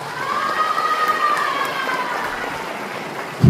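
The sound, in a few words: audience applause at memorial ceremony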